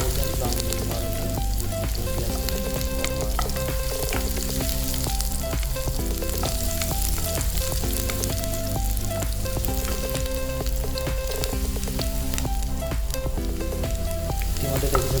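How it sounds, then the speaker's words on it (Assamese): Onions fry to golden brown in a pan with a dense, steady sizzle that holds unbroken for the whole stretch, close and even, without talk. "ইতিমধ্যে দেখিছে গোল্ডেন ব্ৰাউন হৈছে পিঁয়াজটো।"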